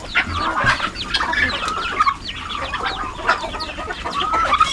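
Young pullets and other chickens cluck and chatter continuously and fairly close, with overlapping calls from several birds and no speech.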